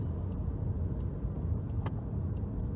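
A car on the road heard from inside the cabin, with a steady low engine and road rumble and a few faint clicks over it, no talking.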